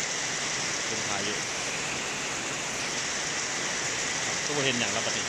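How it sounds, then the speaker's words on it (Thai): Heavy storm rain pours down in Loei province, Thailand, a dense, even hiss of drops on surfaces filling the whole stretch without a break. "ฝนมาจนได้ครับ"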